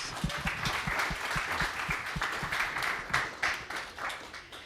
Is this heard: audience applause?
yes